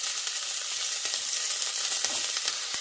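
Onion, ginger and garlic fry in oil in a pan as the start of a paneer butter masala, a steady bright hiss and crackle with small pops, fairly quiet and close, no talking.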